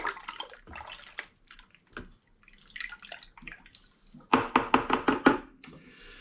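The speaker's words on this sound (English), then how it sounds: "I'm going to give it all a good stir around" A big spoon stirs a home-brew Vimto and hops cider mixture in a vessel, giving irregular sloshing and scraping strokes that swell into a louder run of rhythmic swishes near the end.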